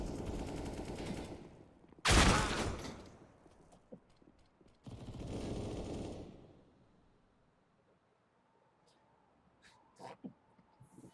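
Desert Eagle pistol shots ring out in a CS:GO match, two sharp loud reports a few seconds apart, followed by quieter game sounds and faint clicks.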